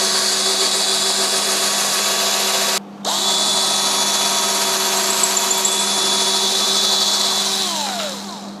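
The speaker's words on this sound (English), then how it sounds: "So now I just made the hole using this smaller drill bit" A power drill bores a hole through a workpiece with a small drill bit, running as one steady, loud whine with a brief stop partway through, then winding down at the end.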